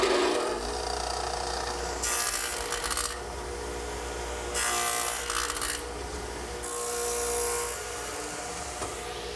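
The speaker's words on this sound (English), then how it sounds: "I've equipped my radial arm saw with my stacked dado head cutter and swung the arm around to 45 degrees" Radial arm saw fitted with a stacked dado head cutter, arm swung to 45 degrees, plowing a shallow dado in redwood: a steady motor whine with three loud grinding cutting bursts separated by lighter running, no voices.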